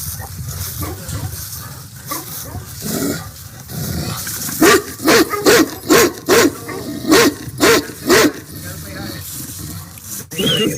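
A played recording of a dog barking: a rapid burst of loud, close barks in a quick run, following people talking.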